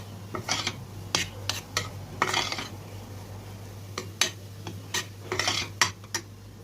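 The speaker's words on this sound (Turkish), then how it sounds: "Hepsinin eşit oranda kavrulması için mutlaka sürekli karıştırıyoruz" A utensil scrapes and clinks against a pan as flour and butter for helva are stirred continuously, irregular metallic knocks and scraping bursts over a low steady hum.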